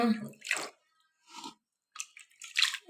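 Water splashing and dripping in short wet bursts while a small deity figurine is dipped and bathed, close and intermittent with quiet gaps between.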